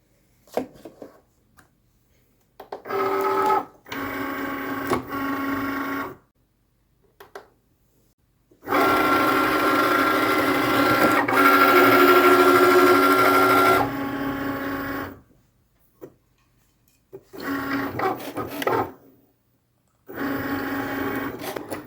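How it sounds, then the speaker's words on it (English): Cricut cutting machine cutting a vinyl sheet on a standard grip mat, heard as bursts of mechanical whirring and motor buzzing separated by short pauses, with one longer sustained run in the middle, close and fairly loud. "Next, you just have to load it into your Cricut machine."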